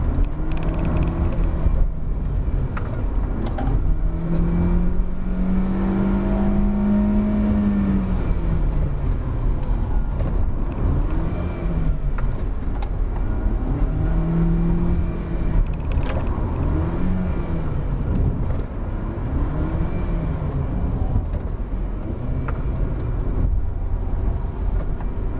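A 2019 Proton Saga drives fast downhill on Genting, its engine note rising and falling in repeated sweeps under constant road and wind roar from inside the cabin.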